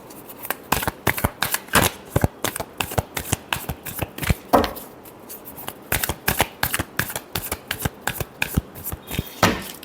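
Tarot cards are riffled and shuffled by hand close up, a fast run of sharp papery snaps and flutters in uneven bursts with short pauses between.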